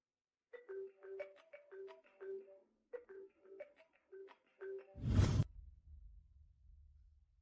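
A telephone rings with a repeating electronic melody in short, evenly spaced bursts, fairly faint, before a sudden loud whoosh cuts it off and leaves a low rumble.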